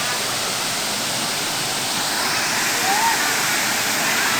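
Huai Mae Khamin waterfall in Kanchanaburi roars as a dense, steady rush of falling water, loud and unbroken throughout, with a faint voice briefly surfacing beneath it.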